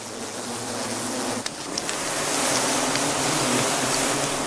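Honeybees swarming around an opened hive, a continuous, even buzzing drone with soft hiss, close and moderately loud with no voices.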